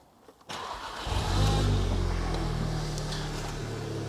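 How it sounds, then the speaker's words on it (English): A VW Golf R Mk7 engine cranks over briefly and catches, then settles into a steady, low idle rumble close by. "And in fact, if we even start the car,"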